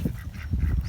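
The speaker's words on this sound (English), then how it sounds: "I was just playing with the ducks." Ducks quack in a short, busy cluster of nasal calls close by, several overlapping within under a second, moderately loud and free of talk.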